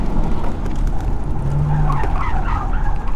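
Tires on a 2001 Corvette screeching as it brakes hard on a racetrack, a brief squeal rising over a loud, continuous engine and road roar.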